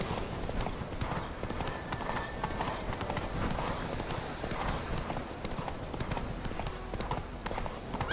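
Roach, the horse in the video game The Witcher 3, gallops with rapid, rhythmic clip-clop hoofbeats running steadily throughout, close and moderately loud, with faint game ambience behind.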